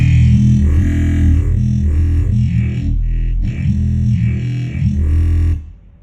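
Music run through a spectral crossfade effect comes across as a dense, distorted, swirling wash of sound that shifts in texture and fades out at the end.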